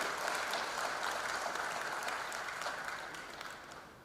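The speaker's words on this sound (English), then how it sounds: "I request the parents to give a big applause to your wards" Parents in an auditorium at a freshers' induction program clap for new students, a dense sustained round of applause that slowly fades over a few seconds.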